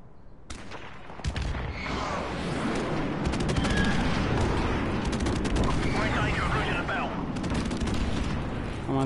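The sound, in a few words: airstrike and gunfire in a PS4 shooter video game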